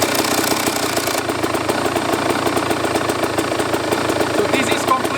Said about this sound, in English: I will let you hear how the bike sounds.